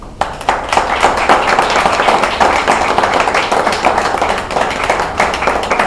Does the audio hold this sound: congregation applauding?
yes